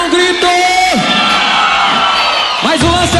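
A live concert crowd in Lages, Brazil, in 2008 shouts and cheers loudly and without a break, with rising whoops and yells standing out from the steady roar.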